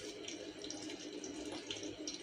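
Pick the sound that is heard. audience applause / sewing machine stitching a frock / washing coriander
washing coriander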